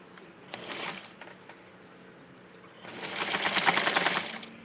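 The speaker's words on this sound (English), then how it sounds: "I'm going to sew it again" A sewing machine stitching Barbie doll clothes runs in two short bursts, a brief whirring run early on and a longer, louder run near the end, with quiet handling between them.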